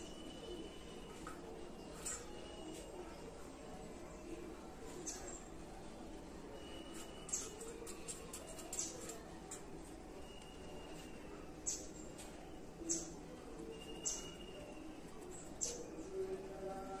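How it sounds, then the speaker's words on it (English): Wild birds sing and chirp faintly in an indoor setting with a pet conure nearby, with scattered short calls over a quiet hum, growing more frequent toward the end. "What a song from other birds!"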